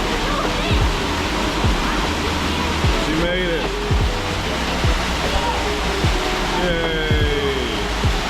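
A rainforest waterfall in El Yunque, Puerto Rico roars as a dense, constant rush of falling water close by, with people calling out and cheering briefly over it.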